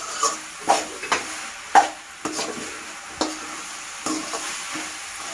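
Turmeric powder is stirred into a frying okra and eggplant curry, with a spoon scraping the pan in a series of distinct strokes over a low sizzle, close and without talk.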